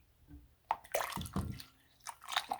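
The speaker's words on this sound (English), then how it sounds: "add some hot water" Hot water splashes and trickles into a dye pot for fiber dyeing, a few irregular liquid gushes and drips, close and fairly quiet.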